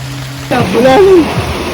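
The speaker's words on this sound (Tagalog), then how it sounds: "umuulan na po" Steady rain falls outdoors over a field where a termite mound is being dug open, a soft constant hiss under a brief voiced sound in the middle.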